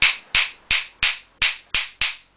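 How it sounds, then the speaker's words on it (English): Seven sharp, ringing metal hammer blows striking a hoop onto a Japanese chisel handle at a steady pace, close and loud, each one decaying quickly before the next. "just hammering it on like so"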